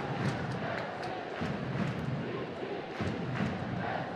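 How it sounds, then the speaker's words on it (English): Stadium crowd at a women's soccer match between Portland Thorns FC and Western New York Flash: a steady, dense murmur of many voices with faint scattered calls, continuous throughout at a distance. "Crowd a little edgy now as Western New York gets on the board."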